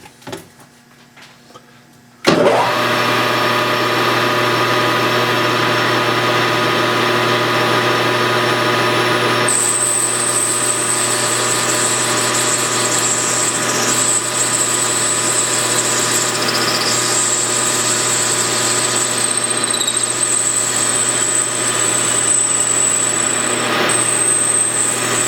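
A power drill with an undersized bit starts abruptly after a brief quiet moment and then runs continuously, a loud steady whine with a high-pitched tone joining midway while drilling into stock in a workshop.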